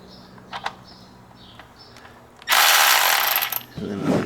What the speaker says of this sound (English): to my Milwaukee ratchet and my magnetic socket so that I can keep my hand out of the way